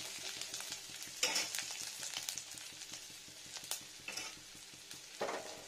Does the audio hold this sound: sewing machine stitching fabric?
no